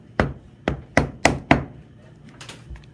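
Hammer blows on a new fitting during a hands-on training session: five sharp, close strikes at a steady rhythm, followed by a few softer knocks and handling sounds, with no talking.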